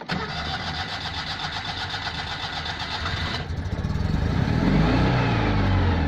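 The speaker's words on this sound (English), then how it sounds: "Have we got an engine that starts?" A Citroën 2CV running on a lithium-ion battery cranks with a rapid, steady whir for several seconds, then catches and rises into a louder, rumbling idle close by.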